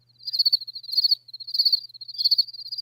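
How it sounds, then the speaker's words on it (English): Crickets chirp in steady repeated pulses, a bright high trill rising and falling in regular bursts, close and clear with no talk over it. "Just random crickets."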